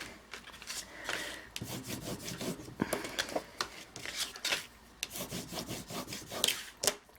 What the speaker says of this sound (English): So we will burnish each of those.